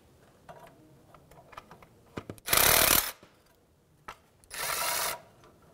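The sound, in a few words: removing a swivel socket adapter from a ratchet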